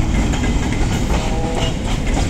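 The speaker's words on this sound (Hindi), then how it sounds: "पीछे से हमारी केरोसिन ऑयल की ट्रेन आ रही है हमारी" A kerosene oil freight train rolls past, loud and continuous, with a steady rumble of wheels and rail clatter filling the whole stretch.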